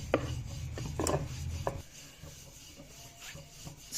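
Aloo paratha dough rolled out with a rolling pin on a board, giving soft knocking taps and rubbing scrapes, busier at first and then quieter, close up with no talk.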